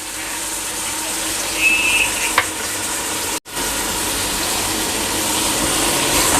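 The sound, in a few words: tomato and ginger-garlic paste frying in a pan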